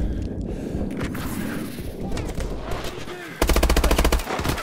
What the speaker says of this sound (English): Oh, man, I'm shooting everything